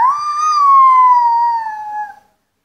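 A young child imitates a fire engine siren with one long, loud wailing tone that holds steady and then fades away, alone and without other sounds.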